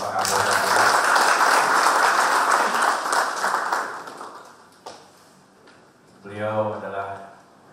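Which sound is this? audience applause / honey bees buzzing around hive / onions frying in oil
audience applause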